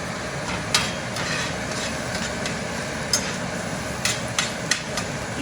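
Onions and mushrooms, seasoned with salt and pepper, are stirred in a hot pan, giving a steady close sizzle broken by several sharp spatula knocks and scrapes, with no talking.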